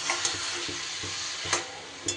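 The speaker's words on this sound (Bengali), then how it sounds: "ভালো করে ঢাকা খুলে ভালো করে একটু আমি নাড়াচাড়া করে নেব।" Cabbage and hilsa fish bones cooking in a pan, stirred with a utensil: a continuous soft sizzle broken by several light scraping knocks at irregular intervals, close and without speech.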